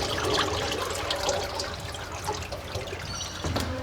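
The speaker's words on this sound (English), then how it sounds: "slowly drop down the filter so I can drain the rest of the oil out of the pan" Black transmission oil on a high-kilometre Ford Ranger or Mazda BT-50 runs out of the pan with a steady close trickling and splashing, mixed with brief drips.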